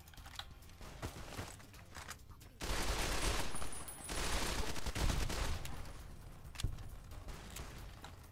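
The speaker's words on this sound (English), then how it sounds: "And grenade launcher again." A grenade launcher fires in Fallout New Vegas amid a burst of gunfire: a sharp launch, then a sustained loud blast and crackle for a few seconds, with smaller pops and clicks before and after.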